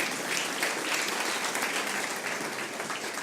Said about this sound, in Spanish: dele un aplauso fuerte al Señor de gloria